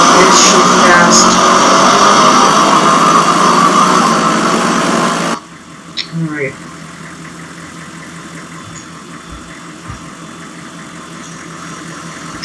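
A car engine revs hard through first, second and third gear, a loud, sustained roar for about five seconds that cuts off abruptly and leaves only a low, quieter rumble with a few faint knocks.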